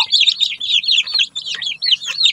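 Backyard chicks in a small home poultry coop peep in quick, high, continuous chirps, close and lively, with no talking.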